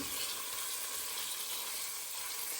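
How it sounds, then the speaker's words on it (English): Pork pieces sizzle steadily in a hot pan while being stirred to brown, a close, continuous bright frying hiss with no voices. "And then you just keep stirring them so each side gets nicely browned."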